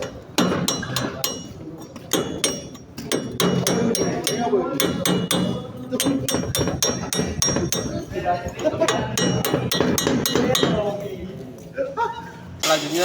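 Cap chisel struck repeatedly with a hammer on a metal workpiece in a workshop, giving a long series of sharp metallic clinks and taps in irregular rhythm, fairly close and loud, with a speaking voice in the background.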